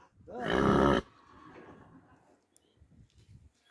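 A loud, close whinny from a mare lasts about a second, followed by quieter shuffling and faint low sounds.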